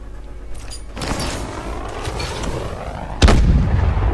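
Grenade blasts go off in Call of Duty: Advanced Warfare grenade training: a rumbling burst near the start, then a sharper, louder explosion later, over a low game background with no speech.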